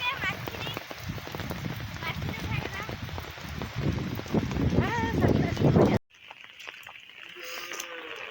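Heavy rain pours steadily during a day-long downpour with flooded roads, a dense, loud hiss under voices, then it abruptly turns quieter and thinner near the end.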